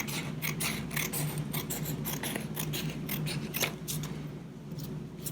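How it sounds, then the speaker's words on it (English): Scissors snip through a thin strip of green construction paper in a rapid, uneven series of close, crisp cuts over a steady low room hum, with no voices. "cut a little strip"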